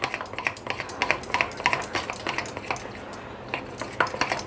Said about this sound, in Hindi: और इसको इसमें मिक्स कर दूँगी